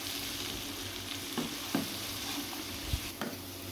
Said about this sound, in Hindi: अब हम थोड़ी देर इसको भूनेंगे